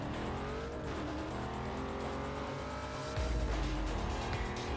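Ford Mustang V8 in a video game, engine note rising and revving hard with tire squeal and race-car roar, steady and loud throughout, growing heavier near the end.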